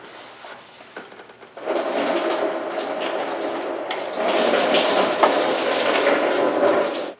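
Coolant drains from the lower radiator hose of a Jeep Cherokee XJ, first a faint trickle, then a steady splashing pour that grows louder midway and keeps flowing without a break.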